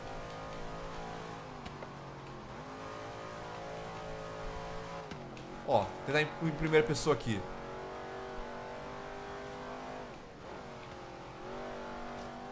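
Racing car engine in Forza Horizon 3's Hot Wheels expansion, driven from a first-person view. It holds a steady drone with brief revving surges, and someone talks over it throughout.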